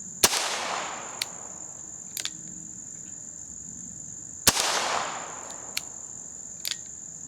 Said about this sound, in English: And I'll be shooting these single action off this bench rest here.